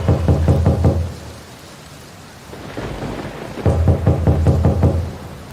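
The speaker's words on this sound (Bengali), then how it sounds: "বাড়ির সদর দরজায় একটা শব্দ শোনা গেল।" Two quick bursts of firm knocking on a front door, each several raps in a row, stand out over a dense background of heavy thunderstorm rain with a rumble between them.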